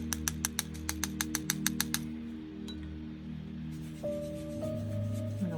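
A pencil taps a quick, even run of about a dozen light, crisp clicks on paper, flicking watery yellow paint into speckles, then stops, leaving a quiet room hum.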